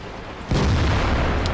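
A single heavy boom from a KV-1S heavy tank's 122mm gun in World of Tanks, with a sharp onset and a rumbling tail, followed by a faint, brief burst.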